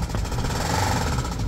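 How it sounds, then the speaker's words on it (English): Rough, steady mechanical clatter from a Jaguar Land Rover Ingenium engine with about 52,000 miles, a knocking fault, running close and loud with no pause through the moment. "The engine's knocking."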